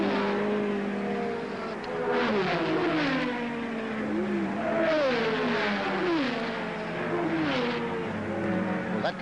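Racing cars from the 1968 International 100 at Warwick Farm roar past one after another, their engine notes rising and falling as they accelerate and sweep through, loud and continuous throughout.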